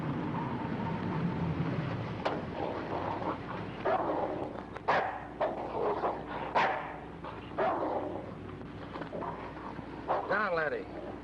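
A dog barks and yips in sharp, irregular bursts, close by, mixed with whimpers and mingled with people talking over it.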